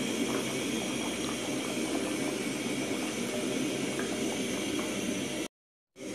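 An eggplant sauce with plantain bananas simmering in a pot, a steady bubbling hiss that holds at an even level until it cuts off abruptly near the end.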